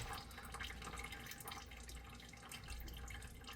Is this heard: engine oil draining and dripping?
yes